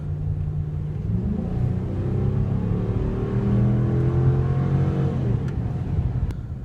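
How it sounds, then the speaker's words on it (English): A 2014 Ram 1500 Big Horn with a 5.7-liter V8 climbing a hill at about 45, a steady low engine drone that rises and shifts in pitch, heard from inside the cab. "it really doesn't seem like the engine's stressing at all to do this"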